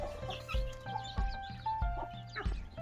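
Chickens on a village farm cluck and call in short repeated bursts, fairly close, with soft thumps and bumps between the calls and no talking.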